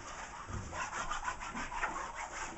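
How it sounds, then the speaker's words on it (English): White wax crayoned onto a snowboard base sets up a steady, close scraping rub that keeps going in repeated strokes, with no voices over it. "We're going to do what's called crayoning. And that's just white wax around the board."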